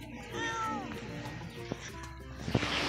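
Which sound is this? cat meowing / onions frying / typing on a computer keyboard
cat meowing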